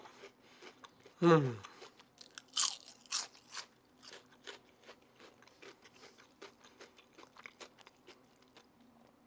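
Crispy fried onion rings crunch loudly in a sharp first bite, followed by a series of softer, rhythmic crunchy chews close to the microphone.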